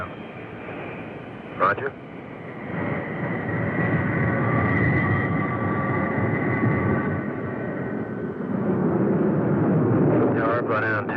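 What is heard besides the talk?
Grumman F-14 Tomcat jet taxiing across runway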